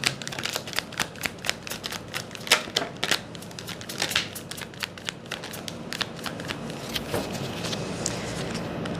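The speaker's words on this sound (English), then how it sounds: "Let me just fill the table with cards to see what else is coming up for you guys" Tarot cards slapped down one after another onto a table, producing a quick irregular series of crisp papery snaps and shuffles that run close and clear throughout.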